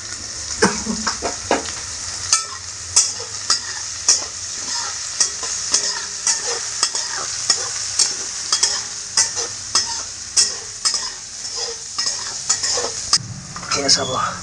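Onions frying in a pan for cauliflower manchurian: a loud, continuous close sizzle with regular stirring scrapes and occasional utensil clicks, with no talking.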